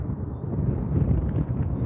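Wind buffeting a microphone outdoors at Newcastle Airport on a crosswind day, a steady low rumbling roar that swells and gusts throughout, fairly loud and with no speech.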